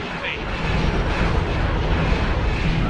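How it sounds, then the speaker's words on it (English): Bomber spacecraft fly around in the X4: Star Wars space game, making a loud, continuous engine roar and rumble that swells slightly over a few seconds and fills the foreground. "So we got bombers and such around us."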